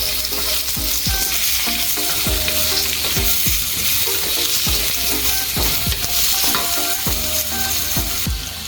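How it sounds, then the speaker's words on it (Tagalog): Carrots and sayote being sautéed in a pan, a steady loud sizzle of frying vegetables broken by repeated sharp clacks of a utensil stirring and scraping, with no talk. "let's saute the veggies, carrots, Siguri. and the sayote"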